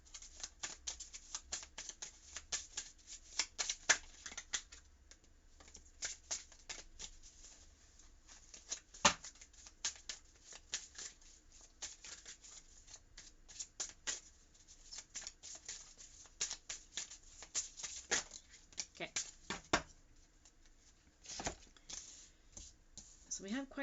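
Tarot cards shuffled by hand in a long run of soft riffling flicks and taps, close and fairly quiet, with brief talking now and then.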